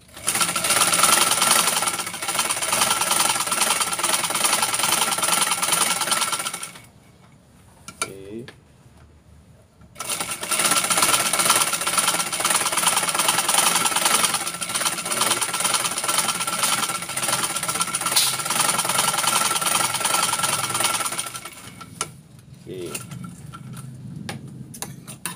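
Sewing machine stitching along the edge of an unlined back trouser pocket, running in a long rapid burst, pausing briefly, then whirring again in a second long run.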